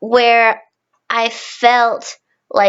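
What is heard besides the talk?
No distinct noise like a dog, phone or traffic.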